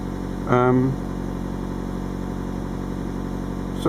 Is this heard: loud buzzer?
no